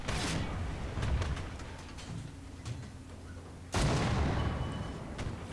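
Incoming artillery fire in War Thunder during a tier-3 medium tank battle, heavy rumbling blasts with a sharp loud impact midway, over continuous battlefield noise.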